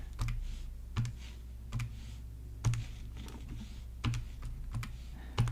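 Calculator keys are pressed while a division of fractions, one half by two fifths, is entered during a math lesson. The taps come as sharp, close, irregularly spaced clicks over a steady low hum.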